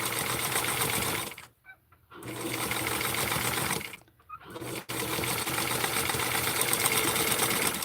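A sewing machine stitches baby rickrack, running in steady rapid bursts with two brief pauses where the motor stops, close and fairly quiet.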